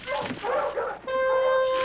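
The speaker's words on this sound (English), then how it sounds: "More than one dog, and coming closer." Several dogs bark in a 1985 animated storybook, quick yapping calls drawing closer over under two seconds, followed by a sustained tonal sound.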